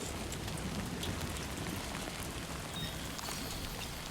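Steady rain falls in the video game Death Stranding 2, a dense, even hiss of drops on surfaces that holds constant and fairly soft with no voices.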